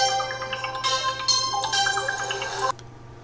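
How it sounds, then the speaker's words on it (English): A phone ringtone from an incoming call plays a loud, close electronic melody of repeating tones for about three seconds before cutting off, over a steady low hum. "Just got a little phone call"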